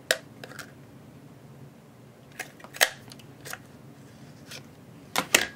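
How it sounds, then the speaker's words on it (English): Scissors snipping through a small milk carton for a birdhouse craft, a few sharp, isolated cuts spaced irregularly with quiet gaps between them, heard close up. "You can take your scissors and finish it."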